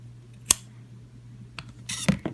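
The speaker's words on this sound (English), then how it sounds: "make a tiny little knot and then snip it off" A single pair of scissors snips off a crocheted yarn end after a tiny knot: one crisp, close cut near the start and a few soft handling rustles and a second faint snip toward the end, in a quiet room.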